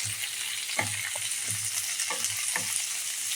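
Onions frying in a pan for capsicum rice give a steady, close sizzle with a few scraping stirs, and no voices are heard.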